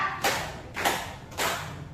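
Three separate hand claps from a teacher leading a classroom counting-clap routine, evenly spaced about half a second apart, moderately close and alone with no talk.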